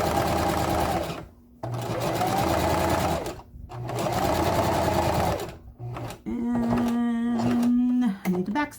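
A sewing machine stitches a simple handbag in several loud, buzzing runs separated by brief pauses. A voice speaks over the final stretch.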